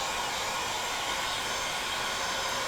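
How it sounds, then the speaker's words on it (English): A heat tool set to its minimum setting, used like a hairdryer over painted sword work, gives a steady, close, even rush of blowing air that holds unchanged throughout, with no talking. "So I have this set on minimum, so it's essentially a hairdryer at this point."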